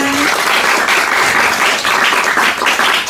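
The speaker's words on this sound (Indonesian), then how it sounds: "Boleh tepuk tangannya semuanya." An audience at an outdoor radio broadcast event breaks into loud, continuous applause, dense, close clapping that holds steady throughout.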